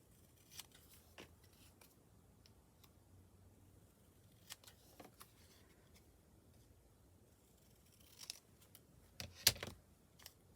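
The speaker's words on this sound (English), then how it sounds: "Just cutting the numbers out." Scissors snip paper numbers out for handmade cards, giving sparse, quiet cuts scattered through a hushed room, with a louder cluster of snips near the end.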